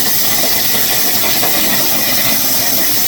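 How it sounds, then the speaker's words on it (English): Water gargling beneath steel being cut on Battleship Texas, heard as a loud, steady hissing roar with a constant engine-like drone and no talk. "That's that gargling sound you hear. It's just water underneath."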